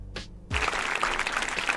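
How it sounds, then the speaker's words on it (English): Applause from a crowd bursts in after a brief quiet moment, a dense, steady patter of clapping that holds at an even level until the end, with no one talking over it. "Give them a round of applause."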